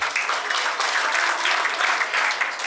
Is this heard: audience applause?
yes